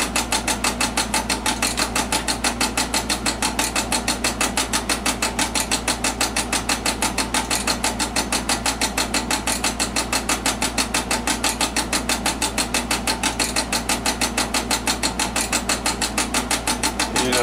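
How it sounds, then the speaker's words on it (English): A stepper motor inside an HP 405CR digital nixie tube voltmeter, running on a bench power supply, makes a steady, rapid mechanical ticking and buzzing that holds an even rhythm throughout, close and alone. "that noise you're hearing is a stepper motor right here"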